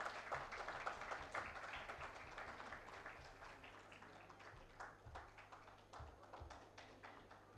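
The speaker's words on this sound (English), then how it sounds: "Please give a huge round of applause" Audience applause at a valedictory ceremony, a steady patter of many hands clapping in a large room, fairly faint and distant, tapering off slowly over several seconds with no talk.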